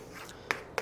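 A few soft scratching strokes of writing on a board in a math lecture room, followed by two short sharp taps, close and quiet.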